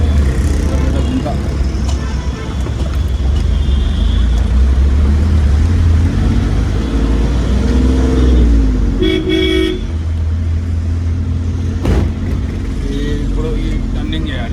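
A road traffic jam builds behind a pothole: a loud, continuous engine rumble runs throughout, with several car horns honking in short bursts and a longer toot. A person talks over the traffic noise.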